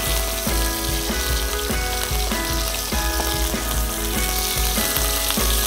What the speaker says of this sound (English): Okay, we're gonna flip the beef now.